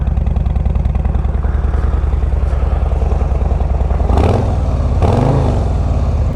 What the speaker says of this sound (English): This is the Screaming Eagle slip-on exhaust.